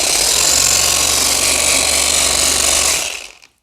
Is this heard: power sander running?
yes